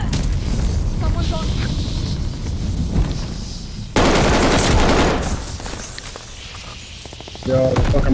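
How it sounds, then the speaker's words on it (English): Rockets launch and burst in the shooter Call of Duty: Vanguard amid rattling gunfire, with loud booming blasts and sustained crackling that fade and then swell again near the end. "I see somebody shooting rockets over there."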